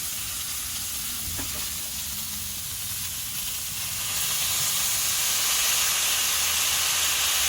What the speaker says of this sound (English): And that's the steam.